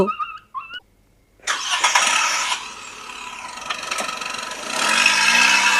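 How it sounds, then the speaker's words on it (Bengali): A car engine roars to life and accelerates past, loud and broadband, fading slightly before swelling again; a few short animal-like cries come first. "আবার ফুল স্পিডে চলে গেল গাড়ি"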